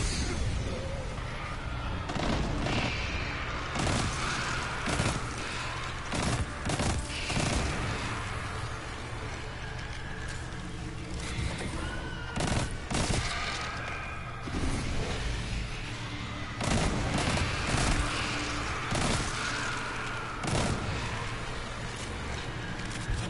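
Video game gunfire rings out in scattered sharp shots and short bursts over a steady background rumble, loud and close, with no talk during the firing.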